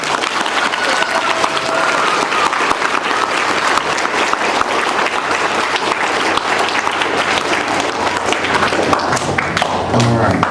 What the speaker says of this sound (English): give this all together a big roaring round of applause just for the Asante group